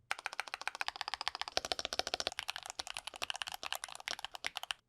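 Fast, continuous keystrokes on a Moondrop Dash mechanical keyboard, crisp and close, with a brief flurry of brighter, louder clacks partway through and an even rhythm throughout, no voices.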